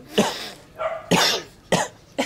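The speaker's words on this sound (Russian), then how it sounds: "Кашляет, передразнивает." Several harsh coughs in a row, close and loud, with brief pauses between bursts.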